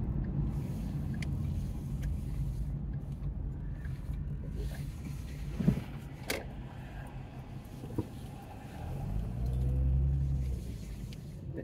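A car idles and rolls slowly into a gas station with a steady low engine rumble and road noise, a few brief clunks midway and a swelling hum near the end, no talking.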